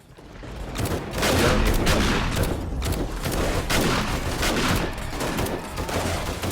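Rows of defensive turrets firing at a zombie horde during horde night in the video game 7 Days to Die, a dense, continuous barrage of loud rapid gunfire with no pauses.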